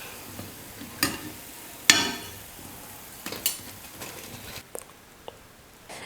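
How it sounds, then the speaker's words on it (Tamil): Idli batter bondas dropped into hot oil, with intermittent bursts of sizzling and bubbling alongside clinks of a ladle against the pan, no talking. "கொஞ்சம் கொஞ்சமாக மாவு எடுத்து நான் எண்ணெயில் போட்டு போண்டாவை செஞ்சு எடுத்துக்கிறேன்"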